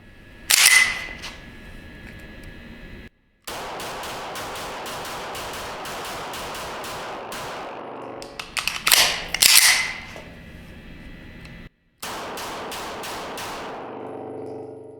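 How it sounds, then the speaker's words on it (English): A Beretta 92X pistol with a red-dot sight fires a sharp shot, then a quick cluster of snapping shots later on, heard close over a steady background hiss with abrupt cuts between sections. "let's take some shots, see what it's like"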